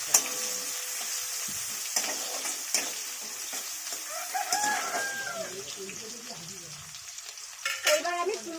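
Chopped onion fries in a pan, ready for pumpkin and prawns to follow, with a steady, loud, close sizzle throughout. A spoon stirs it now and then, and a rooster crows faintly in the background.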